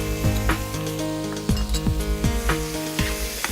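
Schezwan sauce being stirred in a sizzling pan, with steady frying hiss and rapid repeated clinks of a utensil against the pan, close and fairly loud.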